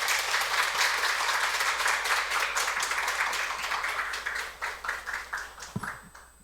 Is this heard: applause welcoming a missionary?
yes